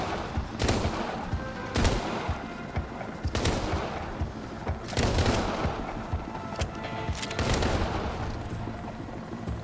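Repeated long rifle shots in the Arizona Sunshine VR game, an older-style rifle with a wooden stock: about seven loud sharp reports at irregular intervals, each with a ringing tail over a steady rumbling background, with no voices.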